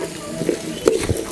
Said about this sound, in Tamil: இந்த பூண்டு இஞ்சி இதோட வாசனை வந்து நல்லா வர அளவுக்கு வதக்கிக்கோங்க